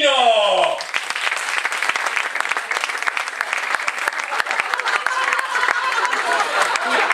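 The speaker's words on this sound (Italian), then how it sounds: "Signore e signori, un applauso forte per il signor Tonino!" Audience at a cabaret show breaks into loud, dense clapping that carries on steadily with a few scattered voices in the crowd, after a host's brief announcement.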